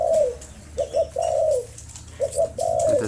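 A dove coos in short repeated phrases, loud and close, with brief pauses between the rolling calls.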